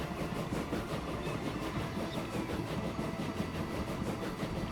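A steam train runs along the track in the Transport Fever 2 video game, with a steady, rhythmic rumbling clatter of wheels at moderate distance.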